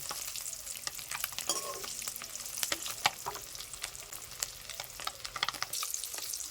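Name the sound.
eggs frying in oil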